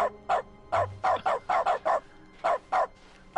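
Repeated dog barks in dog mode in The Stanley Parable, about a dozen loud, close, evenly spaced woofs in quick succession.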